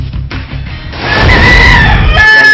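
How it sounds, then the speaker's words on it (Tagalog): Fighting roosters on a farm in Bulacan crow loudly and close by, one drawn-out cock-a-doodle-doo rising over rustling and clucking fowl. "Sa Bulacan, matatagpuan ang farm ni Sonza. Hindi ba sa tatlong daan ang mga manok niyang panabo?"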